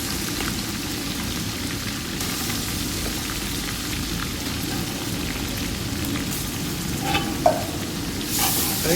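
Finely chopped onions fry in butter with browned ginger-garlic paste for hotel-style dal makhani, a steady dense sizzle like rain with a few louder spatters and stirring noises toward the end, no speech.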